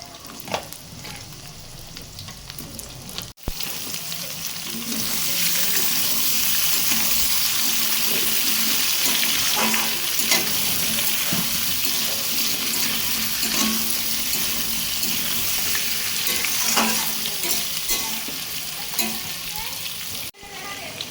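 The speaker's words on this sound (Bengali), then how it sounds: "এবার কেটে রাখা আলুগুলো দিয়ে দেবো।" Cut potatoes are added to a pan of browned onions, and a sharp start gives way to a sustained, loud hiss of frying under occasional stirring scrapes.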